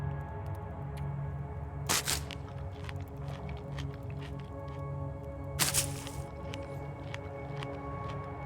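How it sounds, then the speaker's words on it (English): Two crisp, wet crunching bites of cattail stalks being eaten in the survival game The Long Dark, spaced a few seconds apart over a low, steady ambient hum. "I'll go ahead and eat just a few cattail stalks."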